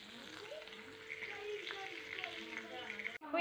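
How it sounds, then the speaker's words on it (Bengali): Fish frying in a pan, giving a steady, quiet sizzle with a bright hiss and small crackles that runs throughout and ends in a sudden clatter. "তো এই দেখো মাছটা এখন ভেজে নেব"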